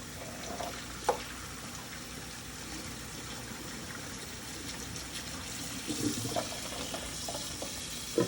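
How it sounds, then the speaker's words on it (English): Cool tap water running into a pot of boiled farm-fresh eggs, a steady, faint stream of running water with a few clinks and knocks at close range. "And then I'm going to start adding some cooler water back in here."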